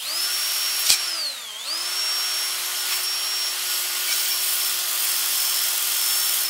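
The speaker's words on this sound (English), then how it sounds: "we're going to turn the drill while we use our fingers to press this into it" A power drill spins a wooden plunger head for a SnapBow against rough grit sandpaper, giving a loud, steady high whine that sags in pitch briefly near the start, then holds even to the end.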